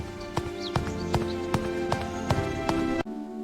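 Cartoon hoofbeats of a mother goat running in a Kazakh children's fairy tale, a steady series of sharp evenly spaced clops over a bright sustained musical tone, ending abruptly.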